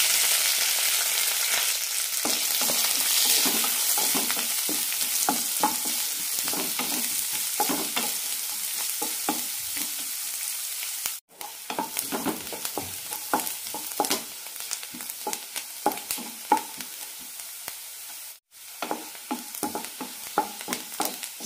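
Chopped onion, ginger, green chilli and curry leaves frying with urad dal in oil for a tapioca-wheat puttu upma, a steady close sizzle with frequent scraping stirs and two brief cutoffs.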